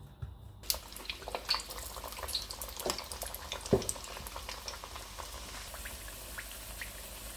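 Soft crackling and popping of thattai rice crackers frying in oil over medium heat, steady and fairly quiet, with a few sharper pops and no voices.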